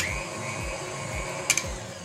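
A red KitchenAid planetary stand mixer runs with a steady motor whir and a low rhythmic thump from the rotating beater. Near the end come two short metallic clicks. The sound is close and has no talking over it.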